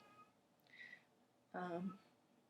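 A cat gives a soft short mew, then a louder, longer meow nearby in an otherwise quiet room.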